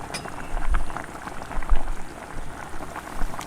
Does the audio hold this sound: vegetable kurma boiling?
yes